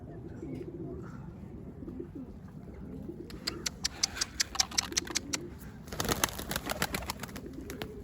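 Pigeons coo softly and repeatedly up close, with sharp tapping and fluttering bursts joining partway through, as they are fed crumbs.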